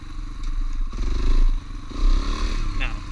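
Yamaha TTR 125 trail bike engine revving loudly up close, with a clunk and a dip in pitch as it shifts into second gear, then pulling again under rough mechanical clatter.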